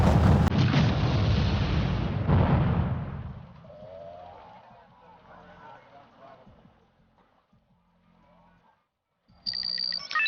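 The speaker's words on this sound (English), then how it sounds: "Here's my my flak panzer getting involved there." Flak panzer anti-aircraft gun firing in the war strategy game Wargame European Escalation, a dense, loud rattle of rapid shots that fades into distant booms, with a sharp burst returning near the end.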